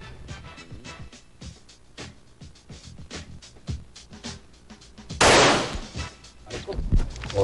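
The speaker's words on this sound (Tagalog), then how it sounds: "Firing." Sharp .45 caliber pistol shots crack at a firing range, a dense series of loud impulsive reports and echoes with one long burst of blast noise midway, set against distant range gunfire.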